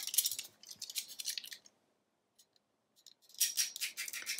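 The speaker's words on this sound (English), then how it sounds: "then just use my X-Acto knife to trim off 1/4 inch" Paper trimmed with an X-Acto knife on a crafting surface: two bursts of close, crisp scratchy cutting strokes, separated by a brief quiet pause.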